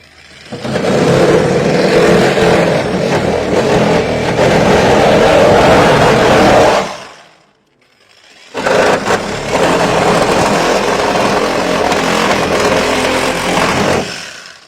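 A RETOOLS power driver drives screws into particleboard, roaring loudly and continuously for about seven seconds, stopping briefly, then running hard again to the end.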